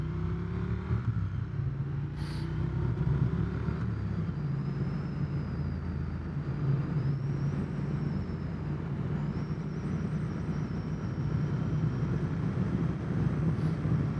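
A Triumph Speed Twin 900 motorcycle ridden on the road near Athens, its engine droning steadily and rising under throttle with a continuous low rumble, wind noise over it throughout, and no talk.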